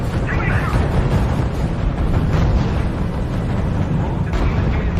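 Booming artillery fire and explosions from the WWII strategy game R.U.S.E, a dense continuous rumble of blasts throughout with no distinct gaps.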